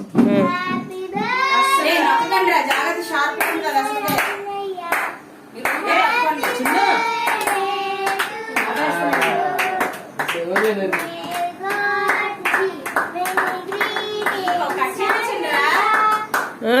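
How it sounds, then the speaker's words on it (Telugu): Hands clap in bursts at a son's birthday party at home, mixed with loud overlapping adult talk and children's voices nearby. "క్లాప్స్."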